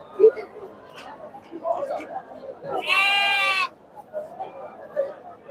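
Goats and young kids bleat at a Friday goat market in Ettayapuram, one loud drawn-out bleat standing out amid market chatter and someone talking nearby.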